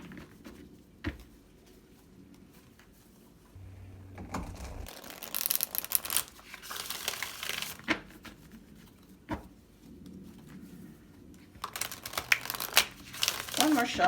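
Papery crinkling and riffling of tarot cards being shuffled, coming in several bursts close by, with a voice speaking now and then.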